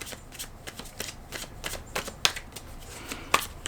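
Tarot cards being shuffled close up, a soft, steady riffling and flicking with a few sharper snaps, quiet and without speech.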